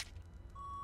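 A short electronic beep sounds faintly in the Get Even video game, a thin steady tone rising briefly over a low ambient hum.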